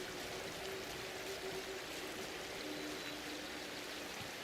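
A waterfall pours continuously in the video game Atomfall, a faint, steady broadband rush of falling water heard alone without speech.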